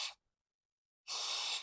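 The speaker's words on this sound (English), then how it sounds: "I'm going to go ahead and spray this connector here." Two short hissing bursts of contact cleaner aerosol are sprayed onto a back-up camera connector on a Jeep Compass. There is a brief puff, then a pause, then a longer steady spray, close and fairly loud with no talking.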